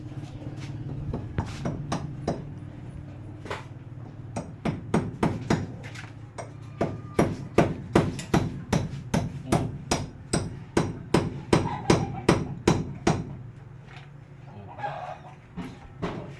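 Rapid hammer blows drive nails at a small shop under construction, dozens of sharp close strikes in quick bursts with short pauses, while a rooster and chickens sound in the background.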